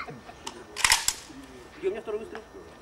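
A Kalashnikov rifle fires during rapid-fire shooting practice, one sharp loud crack with a short echoing tail amid faint talk and background noise.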